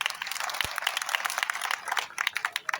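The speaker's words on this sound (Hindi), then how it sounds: "तालियां भाई जोरदार" Applause from a class audience at a Python programming lesson: a brief burst of scattered hand claps, moderately loud and close, with no talking.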